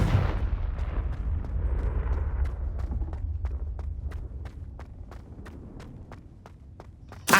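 A Confringo blasting spell in Hogwarts Legacy lands with a low rumbling boom that decays slowly, followed by a string of evenly spaced, sharp clicks, closing with a sudden bright burst.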